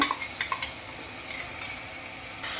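A spoon stirs tomato-coriander paste into fried onion and ginger-garlic paste in a pan for mutton kheema, with soft scrapes and a few sharp clinks of metal against the pot over a low background.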